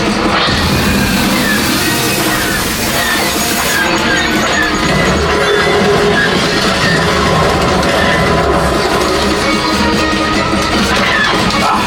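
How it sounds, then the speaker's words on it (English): A loud, continuous roar of a passing train with clattering and rumbling, dense and cacophonous like a ride's mechanical effects, on a Disney theme park ride. "There's the train."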